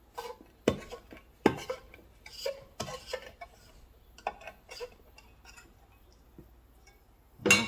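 A container of matte clearcoat is opened beside a 4-to-1 mixing cup, giving a string of sharp clicks, taps and light plastic knocks at close range, with a louder thump at the end and no talking.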